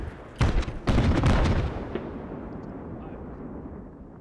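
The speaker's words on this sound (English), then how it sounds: "Concentrated smoke fire mission." A concentrated artillery smoke fire mission in Squad sends several heavy booming impacts in quick succession, loud and close, each followed by a long rumbling roll that fades away.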